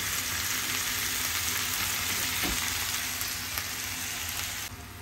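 Green papaya and pork sautéing in a pan, a steady close sizzle and crackle that runs evenly throughout with no talking.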